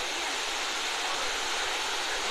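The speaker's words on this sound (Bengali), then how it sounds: "চলে আসছি সেই হরিণমারা ঝর্ণায়" Harinmara waterfall, swollen by rain, roars as a continuous broadband rush of falling water, loud and steady throughout with no voices.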